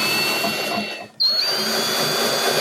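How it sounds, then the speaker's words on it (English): A power drill drives screws into plywood kitchen island cabinet parts, a loud, steady whine that briefly stops and then restarts, with no voices. "I attach the upper and lower elements with screws."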